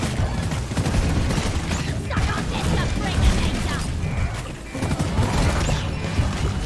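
The Lead Storm minigun in Deep Rock Galactic fires in long, dense, rapid bursts, loud and close, with clattering impacts and a brief lull mixed in.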